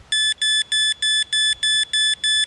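An MF 213C fishing bite alarm, set off when the rod is lifted, gives eight evenly spaced, loud electronic beeps in a steady pulsing rhythm, with no voices.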